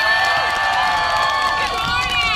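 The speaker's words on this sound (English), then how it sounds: "Let's give her a big hand." Crowd at a political rally in Minnesota cheering and applauding, with dense overlapping shouts and whoops that stay loud and steady throughout.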